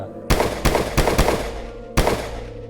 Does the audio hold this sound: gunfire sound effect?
yes